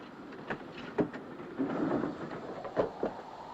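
Interior of a railway carriage on the move in the 1935 or 1959 film The 39 Steps, with a low rumbling roll, soft rhythmic clatter and a few knocks and thumps.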